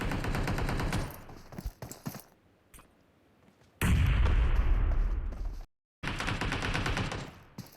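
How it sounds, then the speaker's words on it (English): Gunfire in the mobile battle royale game PUBG Mobile during a competitive scrim match, rapid bursts of automatic shots that cut in and out, with a long dense volley and sharp abrupt stops. "We've got several shots, of course, now flying across."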